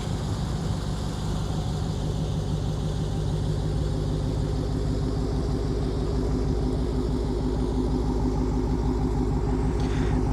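A stock Dodge Demon idling, its engine giving a steady, loud, low rumble that holds throughout without revving.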